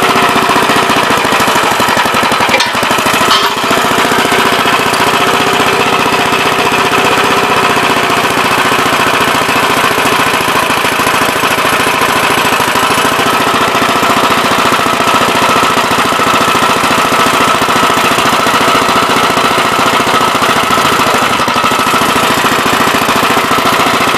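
Grave Digger monster truck engine running loud and rough after being started up following a long rest, a dense, continuous rattling roar held close throughout with no talking.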